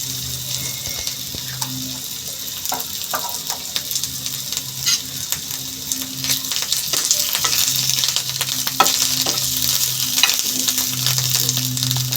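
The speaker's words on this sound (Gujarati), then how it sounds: "થોડો લીમડો નાખીશું।" Curry leaves crackling in hot oil while potato filling for farali samosa is being made, a continuous close sizzle with sharp pops and stirring scrapes, plus a faint running-water hiss in the background.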